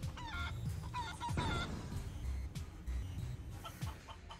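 Video game chicken clucking in short repeated bursts with a few higher squawks, moderately faint, mixed with game background sounds.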